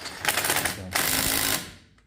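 Impact wrench snugging a locking lug nut through an adapter on a car wheel, two close, loud bursts of rapid rattling hammering, the second cutting off and trailing away.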